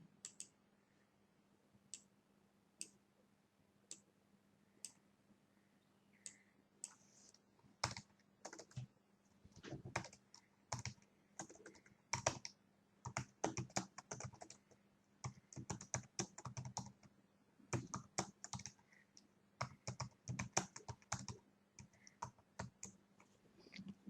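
Keys tapped on a computer keyboard in quiet bursts, starting with sparse, separate clicks and speeding up into quicker runs of typing, close and soft, with brief pauses between the runs.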